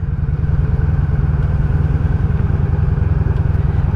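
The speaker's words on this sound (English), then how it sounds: "I like to idle just where it sounds like it's just purring, just quietly purring along." A 1983 Honda V45 Sabre VF750S motorcycle idles steadily around 1200 rpm with a low, even, purring V4 throb, close and continuous with no talking.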